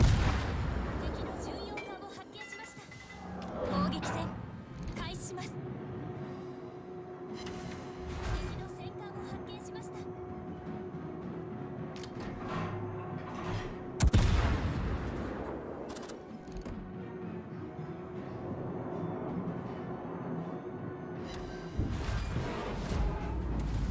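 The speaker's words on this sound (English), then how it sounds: "it just does not really work when aiming a Japanese heavy cruiser's guns" Japanese heavy cruiser main guns in World of Warships, booming salvos at intervals over a rumbling battle background, with someone talking at times.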